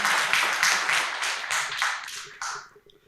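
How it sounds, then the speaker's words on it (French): Applause for an author at a book signing ceremony, a short burst of clapping in rhythmic waves, fairly close, tapering off after about three seconds. "Donc on applaudit très fort pour notre auteur, Khadim Fall Bamba."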